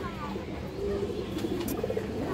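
Pigeons, including Muslodom breeds, coo softly in a loft, with low throaty warbling calls rising and falling over a faint background and a voice nearby.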